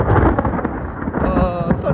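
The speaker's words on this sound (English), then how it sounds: "Thunder and lightning." Thunder rumbles low and steadily during a mountain storm on the Pacific Crest Trail, a continuous heavy roll with wind noise around it.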